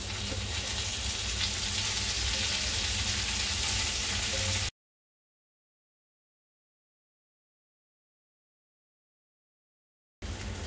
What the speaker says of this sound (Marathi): इथे आपला टोमॅटो पण छान परतला गेलाय.